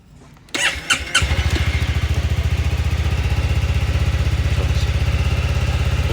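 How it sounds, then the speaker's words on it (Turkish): A Yamaha Forza 250 scooter that sat unused for two months starts up: a few brief starter clicks, then the engine catches and settles into a loud, fast, steady idle throb right up close. "Marş basmayı deneyelim."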